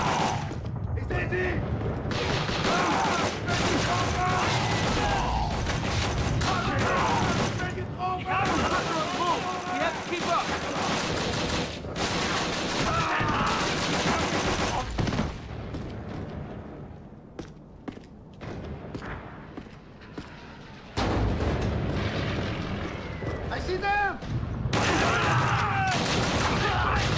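Gunfire crackles in the Call of Duty: Roads to Victory video game, dense bursts and single shots fired in combat, with voices shouting between volleys.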